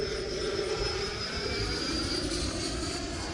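A Horizon Hobby RC jet model aircraft in flight, its steady jet engine whine holding loud and constant throughout with a high tonal edge.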